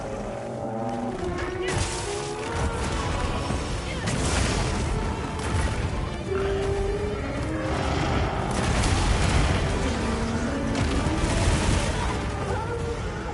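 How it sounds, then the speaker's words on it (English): Arkveld, an arch-tempered monster in Monster Hunter Wilds, unleashes area-wide explosions: a continuous roar of booming blasts and rumbling bursts that swell and fade, loud and dense, over a layered game soundtrack. "He bathes the whole area in explosion powers that kill you in one hit."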